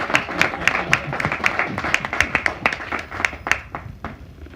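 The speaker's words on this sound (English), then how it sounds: "our largest round of applause should be for him" An audience claps for an honored friend in a lecture room, a few dozen quick sharp claps in an irregular patter, close and fairly loud, with faint murmuring underneath.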